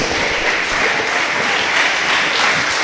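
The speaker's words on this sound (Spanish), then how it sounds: "La bendecimos, le damos un aplauso, Señor, hermano." Applause from a church congregation during a worship service, a dense, steady wash of clapping filling the space for the whole stretch.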